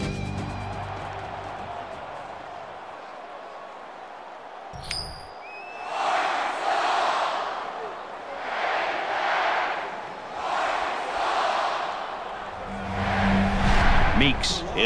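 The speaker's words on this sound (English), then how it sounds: "you can feel the thunder in the crowd as they await the start of this game" A stadium crowd in the NCAA Football '14 video game swells in rolling waves of cheering and roaring before kickoff, rising and falling in several surges under a commentator's voice.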